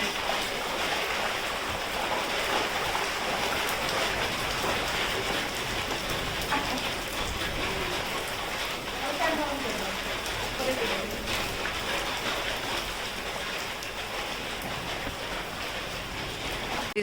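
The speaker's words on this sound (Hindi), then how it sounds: "देखो भाई कति कसुती बारिश होने लग रही" Heavy rain pours steadily over a village, a dense continuous hiss that stays loud and even throughout, with faint voices underneath.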